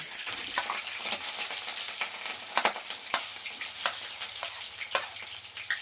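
Chopped tomato, onion and green chilli frying together in hot oil, a dense continuous sizzle with small crackling pops throughout, close and fairly quiet, no voices.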